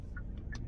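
Two quick turn-signal clicks from a 2022 Hyundai Elantra SEL, soft ticks over a steady low cabin hum.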